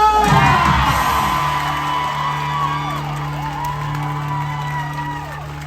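A cruise ship audience cheers the champion of the Voice of the Ocean Pacific Adventure 2023 singing contest final, with loud whoops and yells from the crowd over a sustained low hum that fades slowly.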